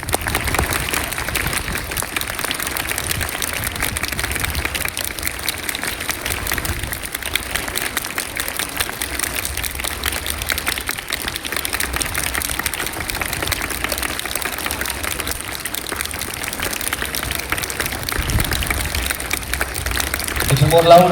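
An audience claps continuously at an academic-year inauguration ceremony, a dense, steady wash of hand claps that holds for the whole stretch and swells slightly at the very end.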